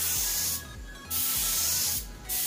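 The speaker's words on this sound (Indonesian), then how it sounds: "Kita semprotkan sekali lagi, merata tipis ke seluruh media." Aerosol can spraying a thin, even coat of mixed clear lacquer over a carbon-pattern surface: two steady hissing bursts, about a second and a third of a second long, close and loud, separated by a short pause.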